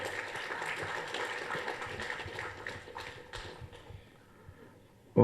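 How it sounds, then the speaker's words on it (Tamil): An audience claps in a steady, dense burst of applause to welcome a guest on stage, fading out over several seconds before a brief loud thump at the end. "எல்லாருமே சாருக்கு வந்து ஒரு உற்சாகமான கைத்தட்டல் கொடுக்கலாமே."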